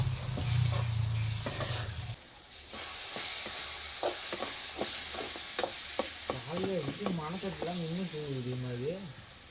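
Onions sauté in hot oil with salt, giving a steady sizzle and repeated scraping strokes of a spoon in the pan, close and fairly quiet, with a voice speaking near the end.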